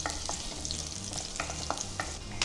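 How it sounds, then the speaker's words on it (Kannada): Cumin seeds and four cloves of chopped garlic fry in a pan with a close, continuous sizzle. Quick scrapes and taps of a spoon being stirred are scattered through it, and no one speaks. "ಸೊ ಜೀರಿಗೆ ಹಾಗೂ ಬೆಳ್ಳುಳ್ಳಿ ಒಂದು 4 ಹೆಸಳು ಬೆಳ್ಳುಳ್ಳಿಯನ್ನು ಹೆಚ್ಕೊಂಡಿದ್ದೀನಿ. ಸೊ ಇದನ್ನು ಸ್ವಲ್ಪ ಫ್ರೈ ಮಾಡ್ಕೊಳ್ಳಿ."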